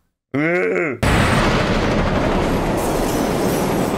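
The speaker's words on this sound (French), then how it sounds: "y'a le métro qui arrive" A brief swelling musical tone gives way abruptly to a loud, sustained roar of a metro train arriving in the film Spiral: From the Book of Saw (2021), steady rushing rumble with clattering over the soundtrack.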